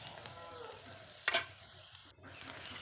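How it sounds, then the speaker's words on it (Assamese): Onions and green chillies sizzle in oil in a kadai, a quiet steady frying hiss with a sharp burst of spatter and a stir around the middle, close and with no talk. "পিঁয়াজখিনি ভালদৰে ৰঙা হোৱালৈকে ভাজি ল'ব।"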